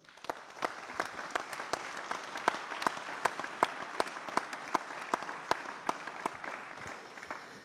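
Audience applause at a TVR BPGO Business Club event welcoming Jacques Barreau, director general of Grains de Sale: a steady round of clapping with sharp individual claps standing out, moderately distant, continuing throughout with no talk over it.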